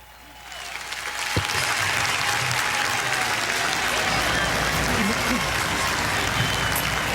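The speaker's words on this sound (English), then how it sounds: "And there you have it, just enormous applause. Everyone rising." A large crowd rises in enormous applause for Pope Francis, swelling quickly from a quieter start into a loud, dense, sustained roar of clapping and cheering that holds steady throughout.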